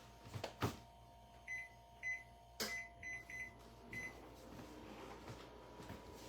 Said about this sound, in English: And I'm going to set my timer for an hour.